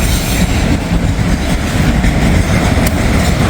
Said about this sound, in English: Oh, it must be a Norfolk Southern train. It's a mixed manifest